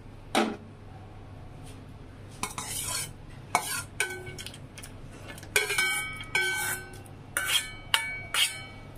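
Sago payesh with fried cashews and raisins stirred in a pot: a spoon scrapes and knocks in uneven strokes with occasional clinks against the pot, close and clear, with no talking.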